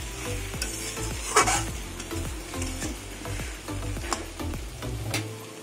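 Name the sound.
stirring taro stolons with katla fish in a pan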